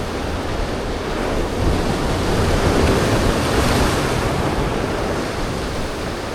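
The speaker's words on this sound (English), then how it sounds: "Waiting for this wave though." Ocean surf crashes on the rocky shore at Narooma, Australia, a loud steady wash of breaking water mixed with wind buffeting the microphone, swelling slightly in the middle.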